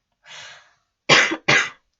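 A faint breathy throat noise followed by two sharp, close coughs in quick succession.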